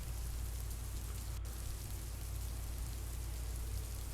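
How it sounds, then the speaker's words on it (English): Steady rain hiss in the indie MMO RPG Omuni Reborn, set on Aki Island by a tidal ocean, a continuous broadband wash with a low ambient rumble and no talk over it. "Oh, I think it's going to rain. Yeah, it's raining!"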